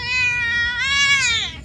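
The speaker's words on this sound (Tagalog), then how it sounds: "Pusa natin si Ashi." Ashi, a pet cat, gives one long, close, drawn-out meow that rises and wavers before trailing off.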